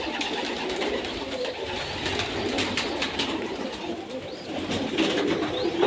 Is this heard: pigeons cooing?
yes